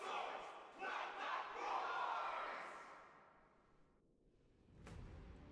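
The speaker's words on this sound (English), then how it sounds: "They're cheering like spectators" Spectators cheering in the video game Honkai Star Rail, a burst of massed crowd shouts that swells for about two seconds and then fades out, followed by a brief whoosh.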